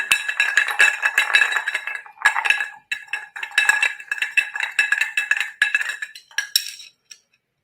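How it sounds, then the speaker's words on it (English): A spoon stirring a strong alcoholic drink in a glass, giving rapid, bright metallic clinks in steady bursts for several seconds, close and loud, ending abruptly with no talking. "stir this up a bit."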